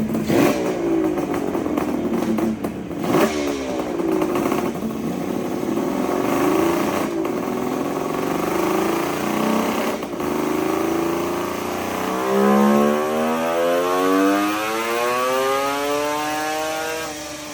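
A 1971 Kawasaki H1B motorcycle with its engine running, heard loud and close as a continuous raspy two-stroke idle with a few sharp revs early on, rising and falling in pitch near the end.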